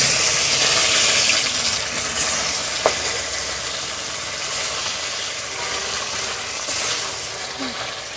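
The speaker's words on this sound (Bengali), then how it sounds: "তেল গরম হয়ে গেছে, মাছগুলো দিয়ে দেব একটা একটা করে।" Bata fish frying in hot mustard oil gives a dense, continuous loud sizzle with little variation, one brief knock partway through.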